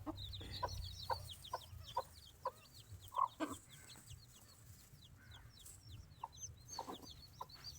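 Hens cluck in short, scattered bursts over a quiet background, with faint chirps of chicks and occasional louder clucks close by.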